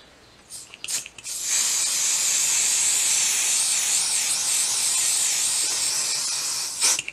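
An aerosol spray can spraying onto freezer paper gives a long, loud, steady hiss of about five seconds, framed by brief rattles and short bursts at the start and end.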